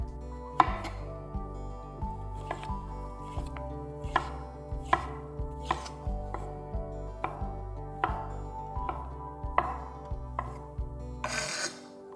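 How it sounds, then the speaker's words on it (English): Knife chopping mushrooms into bite-sized pieces on a cutting board: a steady series of crisp, evenly spaced chops, close and clear, about one per second, with no talking. "chopping them into nice little bite-sized pieces."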